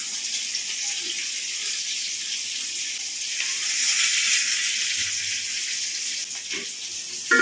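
Kewra water and rose water mixed with a cup of water are poured over mutton cooking for Kolkata-style biryani, producing a steady, hissing sizzle that swells slightly midway, close and continuous.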